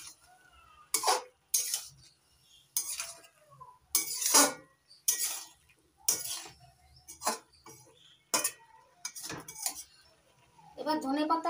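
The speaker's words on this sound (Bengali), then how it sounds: "নাড়াচাড়া করে মিশিয়ে নিচ্ছি গরম মশলাটা।" Garam masala powder being stirred into broccoli in a pan: a series of clinking scrapes and taps of a utensil against the cookware, spaced irregularly over a quiet background.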